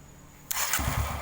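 Kawasaki KLX 150 motorcycle engine cranking on a double starter setup and catching, a sudden loud burst that settles into a low running rumble, with no talk.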